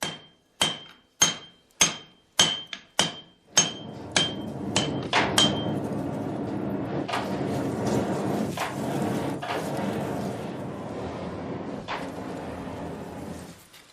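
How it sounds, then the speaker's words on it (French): A steel bar for a katana blade is hammered by hand at a forge: a run of about a dozen sharp, loud, evenly spaced metallic blows, then denser clanging and ringing that keeps going with a few separate strikes. "Gassan martèle la barre d'acier"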